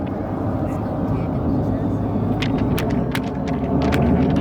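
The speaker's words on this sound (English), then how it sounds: "The smoke coming on, the aircraft repositioning, changing formation over the top of the loop." Red Arrows jets reposition over the top of a loop at the Festival of Flight in Newcastle, a steady, broad roaring rumble that holds throughout, with a voice heard over it.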